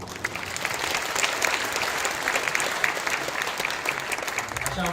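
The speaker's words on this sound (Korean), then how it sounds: "다시 한번 박수를 보내드리겠습니다." Congregation at a combined Easter worship service in a church applauding together, a steady wash of dense clapping that holds at an even level throughout.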